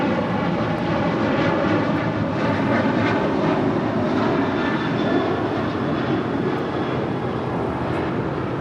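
An airliner takes off from runway 25 right at Los Angeles International Airport, its engines giving a loud, continuous broadband roar that holds steady and close throughout.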